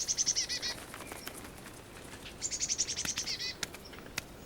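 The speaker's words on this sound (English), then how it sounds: "The bird box is a magnet for birds of all kinds to stock up on sorely needed calories." Birds gathering to feed at a bird box on a cold winter day, with bursts of high chirping calls near the start and again midway, mixed with scattered wing flutters and small clicks.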